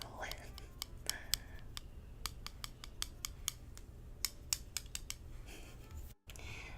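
Small scissors snip in a quick, irregular series of close, crisp clicks during a soft-spoken ASMR pet store roleplay about trimming a pet's nails, with quiet talking and a steady low hum beneath.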